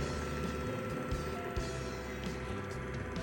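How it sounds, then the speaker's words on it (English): A Gevi Velpro 400 coffee grinder runs steadily and close by, a continuous mechanical whirring with gritty rattling texture throughout, without pauses and with no talking. "go ahead and plug it in. Start the grinder."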